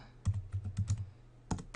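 Fingers type on a computer keyboard while notes are taken during a Magic: The Gathering Fate Reforged draft: a close, fairly loud burst of uneven clicking keystrokes, a short pause, then a few more taps, with no voices.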